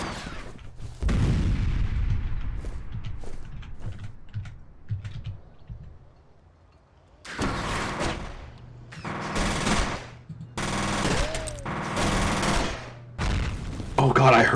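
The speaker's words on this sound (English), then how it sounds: "Oh god, I heard the grenade." A grenade blast in the first-person shooter F.E.A.R. comes amid rapid automatic gunfire and heavy combat noise, with loud bursts of shooting and a rumbling explosion over a player's voice.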